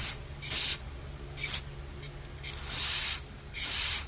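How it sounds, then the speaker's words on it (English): Sprayer fired through a tapered straw-like tube pressed into its opening, giving several short hissing bursts of spray separated by brief pauses, close and fairly loud. "get a good spray through that hole."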